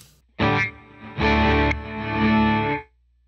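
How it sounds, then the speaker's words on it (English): Guitar played through a Line 6 Helix non-linear gated reverb: three distinct bursts of thick, harmonically rich tone, each swelling and then cutting off abruptly into near silence, the last held longest. "the next one is called non-linear reverb"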